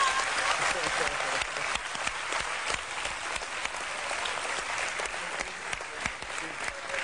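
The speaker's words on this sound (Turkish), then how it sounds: "Çok, çok büyük alkışlar." A television studio audience breaks into sustained applause, moderately loud and dense, steady throughout with slight swells.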